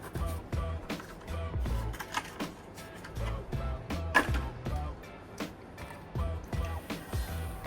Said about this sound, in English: let's go ahead and open this one up